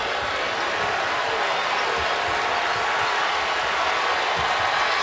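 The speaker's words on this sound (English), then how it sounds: "a lot of fans standing here, a lot of yelling and cheering in the seats" Basketball fans roar and cheer from the seats during a Duke vs. Notre Dame ACC championship game, a steady loud crowd wash filling the arena with faint thumps beneath it.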